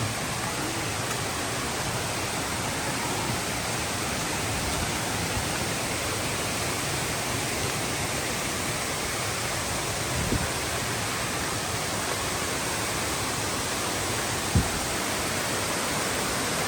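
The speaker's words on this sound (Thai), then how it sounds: "น้ำตกแบบเย็นสบาย" A waterfall at Mae Kampong in northern Thailand roars in a dense, unbroken rush of white noise, loud and constant throughout.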